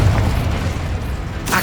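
A Confringo fire-blast spell detonates in Hogwarts Legacy on PS5: a heavy, sustained low boom rumbles throughout, then a brighter burst flares near the end.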